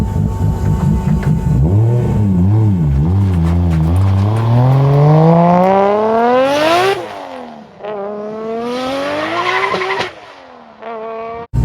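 A Nissan Silvia S13 with an RB25 engine revving hard, loud and close: the pitch sweeps up and down in repeated swells, climbs to a high scream near the limiter, drops away, then rises again before cutting off abruptly.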